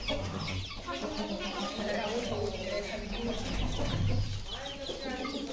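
Desi chickens on a farm also keeping turkeys and guineafowl cluck in scattered bursts nearby, with people talking over the birds.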